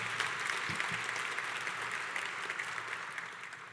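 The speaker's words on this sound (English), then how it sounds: "let's give the council president and council a round of applause if we can" An audience applauds the city council and council president at a mayor's strategic plan rollout, producing a steady, dense roar of clapping hands that holds evenly throughout with no talking.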